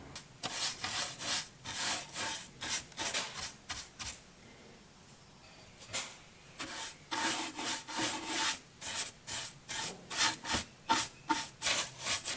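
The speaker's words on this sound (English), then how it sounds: "I'm really wiping this stain down." Cloth wiping wood stain onto a small wooden stool, close rhythmic rubbing strokes in quick bursts, pausing briefly midway before resuming at a steady pace with no talking.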